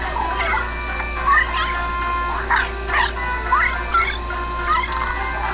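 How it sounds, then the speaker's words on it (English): Small dog in the Luigi's Mansion: Dark Moon video game giving several short yips and barks at a steady pace over a soft, constant game background. "And we meet a dog."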